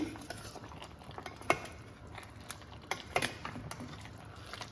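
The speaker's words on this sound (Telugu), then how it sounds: "మళ్ళీ ఒకసారి కలుపుదామండి ఫిష్ ముక్కలన్నిటిని" Fish pieces in a curry pan being stirred gently with a utensil, giving irregular clinks and scrapes of metal against the pan over a low simmering bubble, close and fairly quiet, with no talking.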